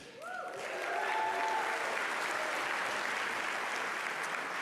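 Audience applause fills an Oregon sports awards ceremony hall, a dense, steady wash of clapping that swells quickly and holds loud and even to the end, with a brief voice or tone faintly at the start.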